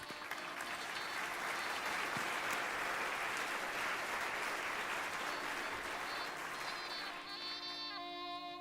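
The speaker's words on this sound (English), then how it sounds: "Can we have a huge round of applause?" A crowd at the inaugural ceremony of a school sports meet claps steadily in sustained applause from a distance, fading slightly as a tone sounds near the end.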